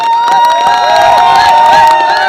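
A large network-marketing event crowd cheers and applauds loudly for leader Raj Babbar, with shouting, whoops and high voices layered over clapping, close and intense throughout.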